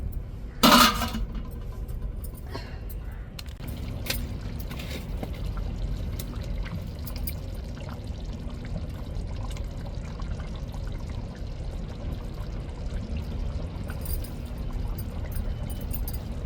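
Cooked salted dried fish curry (sala karuvadu kuzhambu) being poured, with a brief clink of a vessel near the start followed by a steady low liquid trickle and soft pouring that continues quietly throughout.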